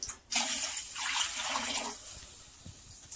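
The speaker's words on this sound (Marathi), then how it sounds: "तांब्याला वर पाणी घेते ती." Water poured from a tumbler into a cooking pot of spiced mixture with turmeric and red chili, a steady splashing pour lasting about one and a half seconds, close and fairly loud, then tapering off.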